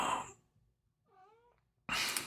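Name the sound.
cat meowing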